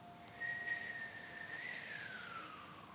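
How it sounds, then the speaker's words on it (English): A high, thin whistling tone from a breath drawn in through pursed lips during the Kundalini yoga whistle kriya, held steady for a couple of seconds and fairly quiet. "Inhaling a whistle."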